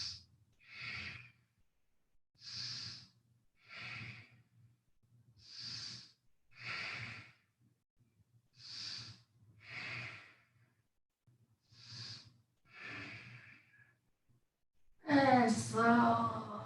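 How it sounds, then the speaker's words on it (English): Deep, strong breaths drawn in and pushed out during a yoga bridge hold, about ten even inhale-exhale cycles in a steady rhythm, close and fairly quiet, ending in a louder, sharper breath or sigh. "I want you to breathe nice, deep, strong breaths"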